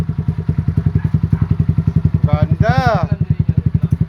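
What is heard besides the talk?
trail motorcycle engine started and revving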